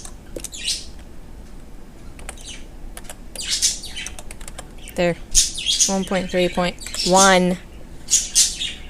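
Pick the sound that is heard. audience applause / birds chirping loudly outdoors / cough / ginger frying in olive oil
birds chirping loudly outdoors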